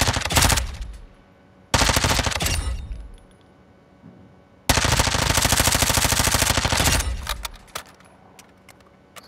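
Two long, loud bursts of rapid automatic fire from a Lachman Sub submachine gun on a firing range in Modern Warfare 2, each dense volley cutting off sharply with shell-casing tinkles and echo trailing after.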